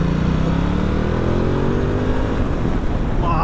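A Ducati Multistrada 1260 S Grand Tour motorcycle engine revs hard and steadily, a loud close continuous drone with a rising rumble throughout, heard alone.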